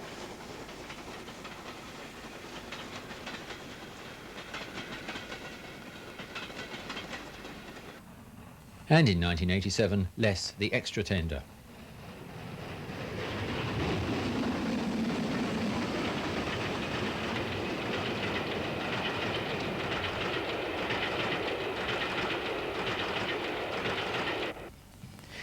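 The Flying Scotsman steam locomotive runs on the British Rail network: a loud, brief whistle-like blast is followed by a long, steady rush of running noise. Narration is spoken over the scene, and the sound cuts off abruptly at the end.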